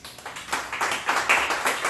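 Church congregation clapping hands together in a steady rhythmic beat during a worship gathering, moderately loud and continuous.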